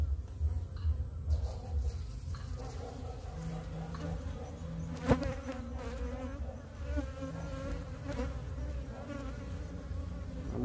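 Honeybees buzz steadily around an open hive with a queen bee present, a dense continuous hum of many insects close by, with no speech over it.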